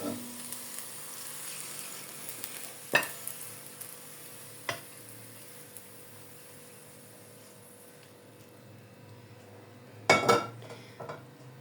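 Okra sizzles steadily in a hot pan at home, a soft continuous frying hiss broken by a few sharp utensil clinks and a louder burst of spoon-against-pan stirring near the end.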